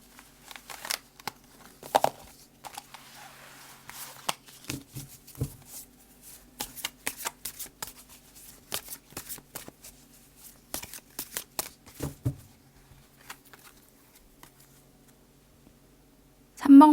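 Tarot cards shuffled and drawn at a reading table, giving soft, irregular papery flicks and snaps in scattered bursts, close and moderately quiet, with a sharper clack at the very end.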